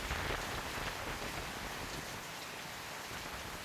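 Steady monsoon rain falls in Savarkundla, Gujarat, a dense, even hiss of drops with no voices, constant throughout.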